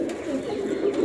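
A pigeon in a shop gives a short soft coo, close and alone, lasting about a second.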